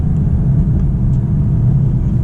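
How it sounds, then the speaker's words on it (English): A Lexus LC 500h hybrid accelerates on the highway, heard from inside as a steady, loud, deep engine and road rumble with no talking. "we'll do some acceleration here on the highway"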